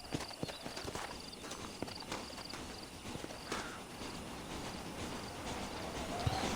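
Horses in the video game Red Dead Redemption clip-clop at a walking pace, a run of light, uneven hoof knocks over a faint outdoor ambience, fairly close and not loud.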